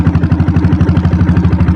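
A Royal Enfield Bullet diesel motorcycle fitted with a rocket silencer, its engine thumping in a fast, even rhythm of loud, close low beats, alone.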